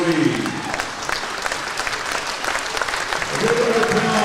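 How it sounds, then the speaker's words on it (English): At a high school boys basketball game in a gym, a crowd claps steadily for military personnel, a dense patter of applause throughout, with a voice heard briefly at the start and end. "A good round of applause for our military personnel"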